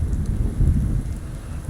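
Heavy rain pours in the video game Fallout London, a close, loud, continuous hiss with low thunderous rumble swelling briefly in the middle, no speech.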